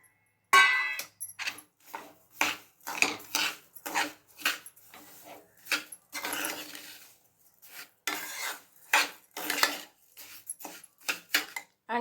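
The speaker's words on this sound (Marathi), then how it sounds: "साखर सोबतच ड्रायफ्रूट्स, वेलची सर्व मिक्स करते।" A spoon mixes dry semolina with sugar, dry fruits and cardamom in a bowl, making a close series of short, irregular scraping and rasping strokes separated by brief silences.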